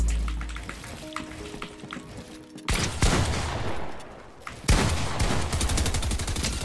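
Gunfire in a Fortnite match, rapid bursts of shots that break out loudly after a quieter opening and keep hammering in dense volleys, with no talk.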